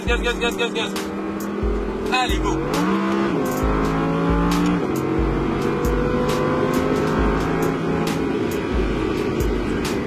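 An Audi R8 RWS accelerating hard on the Le Castellet circuit, its engine note climbing through rising revs with gear shifts, loud and close from inside the car, while a coach talks over it.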